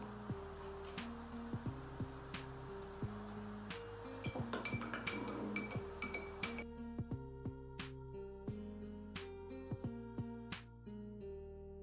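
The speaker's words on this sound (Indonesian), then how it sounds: "Selanjutnya yaitu masukkan bedak ke dalam air dan gelas." A spoon clinks repeatedly against a drinking glass while powder is stirred into water, giving a steady series of light, bright taps at close range under soft background music, with no talking.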